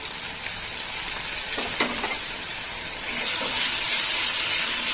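Green chili paste and spices, turmeric among them, fry in a pan for a yam kalia, giving a steady close sizzle with a few faint stirring scrapes throughout and no voices.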